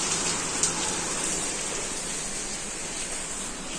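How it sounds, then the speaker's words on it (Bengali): Heavy rain pours steadily, a dense, even hiss of drops on surfaces with no other sounds, constant and close throughout. "বাহিরের দৃষ্টি দেখায় দেখেন কত বৃষ্টি হচ্ছে"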